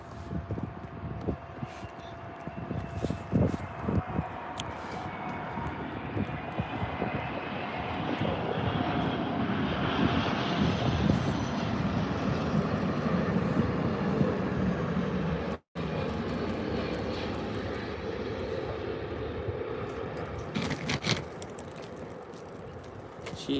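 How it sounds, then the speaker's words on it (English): An Emirates Airbus A380 lands at Birmingham airport, its engines giving a loud, steady broadband roar that swells and holds, with a brief dropout midway and no talk over it. "Emirates A380 just landed"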